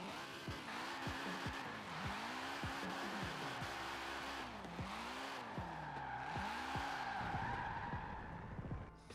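A car drifting in Forza Horizon 4 with continuous tire squeal that sweeps up and down, plus engine revs rising and falling through the slide, loud and sustained without pause.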